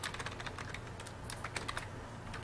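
Quick, light keystrokes clatter on a computer keyboard in an irregular burst, with a steady low hum behind them.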